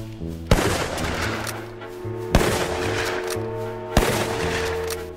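Rifle gunshots in the Western video game Westbound, three loud single shots spaced a couple of seconds apart, each trailing off in a long echoing rumble over a low ambient hum.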